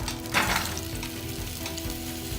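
Diced mango fries with garlic and turmeric in olive oil, a loud, close, continuous sizzle with a brief burst of crackling as the fruit hits the hot pan, no talking.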